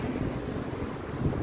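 Cold wind gusts through a street in the old town of Büdingen, a steady broadband rush with buffeting on the microphone, continuous and fairly strong with no talking.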